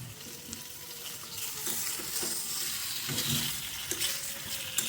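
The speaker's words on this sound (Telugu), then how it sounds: "అల్లం వెల్లుల్లి కొంచెం వేగాక ముక్కలు కూడా వేసేసుకుంటున్నాను" Chicken pieces sizzle steadily in a kadai with ginger and garlic, a continuous close frying hiss with occasional stirring scrapes and clinks, no voices.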